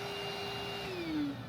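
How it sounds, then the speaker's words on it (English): A vacuum cleaner runs steadily on a camper's rubber roof, picking up metal shavings, its whine dropping in pitch near the end as the load changes, close and continuous with no talk. "And so I'm trying my best to vacuum those up."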